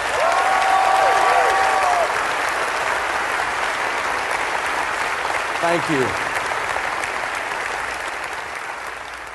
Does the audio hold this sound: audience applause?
yes